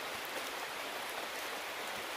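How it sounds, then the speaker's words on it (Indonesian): Steady rain falls on an abandoned oil palm plantation, a dense, even hiss of drops that holds constant throughout with no voices. "Hujan lagi."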